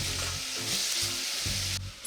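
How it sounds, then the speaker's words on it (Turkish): Onion and minced meat fry in a pan for lasagna, a loud, steady hiss of sizzling with soft stirring underneath, ending with a sudden drop. "Soğanı azıcık kavuruyorum. Biraz renk almaya başladığında kıymayı ilave ediyorum."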